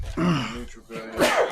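A sneeze bursts out in a tabletop fantasy role-playing session, a sharp nasal blast near the start followed by a second breathy burst, with a voice speaking between them.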